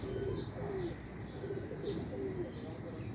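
Pigeons coo in soft, repeated low calls over a steady background hum, with faint chirps from other birds mixed in; the pigeon is a flown racing-type bird kept in a loft.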